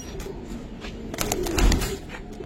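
Giribaz pigeons cooing close by, soft low coos with a fuller, throatier call near the middle, set against faint background noise and no talking.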